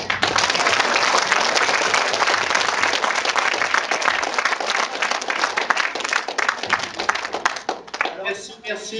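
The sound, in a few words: audience applause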